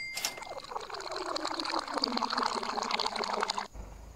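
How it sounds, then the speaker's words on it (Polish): Liquid pours steadily in Estate Agent Simulator, a loud continuous splashing stream that starts abruptly after a short click and stops cleanly after about three and a half seconds. "ciekawy dźwięk nalewania"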